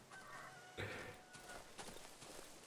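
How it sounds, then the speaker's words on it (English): A chicken clucks faintly in a dark woodland video game, a few soft scattered clucks and footsteps-like rustles under a quiet ambient background. "Oh, I hear a chicken."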